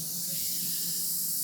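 An airbrush sprays paint in a steady, close hiss of air that holds unbroken throughout, with a faint low hum beneath.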